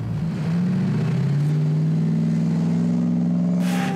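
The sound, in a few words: V8 engine of Ghe-o Rescue off-road vehicle revving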